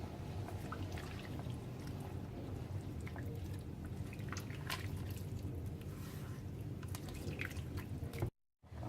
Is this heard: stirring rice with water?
yes